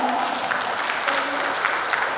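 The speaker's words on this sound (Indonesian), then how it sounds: "Bapak Ibu boleh sekali lagi kita berikan tepuk tangan" An audience claps at an International Literacy Day event, a dense, even wash of many hands that holds steady and loud through the short stretch without a break.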